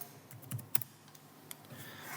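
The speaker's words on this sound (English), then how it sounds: "I then push escape a couple of times on my keyboard." A few soft, quick keypresses on a computer keyboard, the escape key tapped a couple of times, quiet and close in a still room with no talking.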